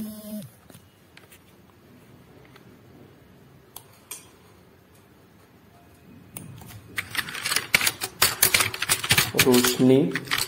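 Rapid clicking keystrokes on a computer keyboard while entering text into an MS Paint text box, quiet and sparse at first, then a dense burst of typing in the last few seconds, with a voice briefly audible near the end.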